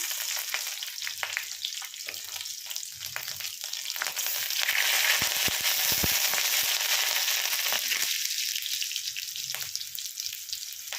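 Slit green chillies fry in hot oil with mustard seeds and chopped garlic, giving a loud, continuous sizzle with scraping stir sounds that swells in the middle before settling.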